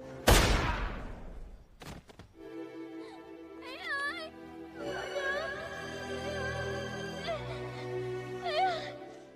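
A sharp, loud gunshot blast in a film rings out, a second fainter bang follows, then dramatic music swells with voices talking over it.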